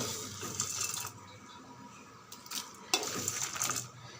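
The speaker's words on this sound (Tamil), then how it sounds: "பொட்டுக்கடலை ஒரு கைப்பிடி, ஒரு 3 நிமிஷம் வதங்கினா போதும்." Fried gram (pottukadalai) being roasted and stirred in a pan for coconut kaara podi, giving soft scraping and rattling bursts at close range with quiet gaps between them and no voices.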